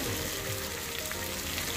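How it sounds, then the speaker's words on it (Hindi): Ingredients for palak gosht frying in a pan, a steady soft sizzle and crackle, close and even throughout with no talk. "इसको भी ज़्यादा लाल नहीं तलना, थोड़ा सा तलना"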